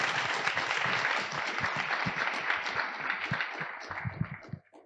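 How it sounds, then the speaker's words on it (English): A theatre audience at a panel Q&A session breaks into dense, sustained applause that thins out and fades near the end. "Join me in a round of applause for this esteemed panel."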